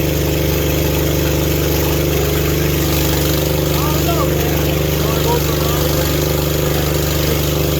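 A manlift's small engine runs after its choke-assisted start, a loud, close, steady idle drone that fills the whole stretch while voices talk over it.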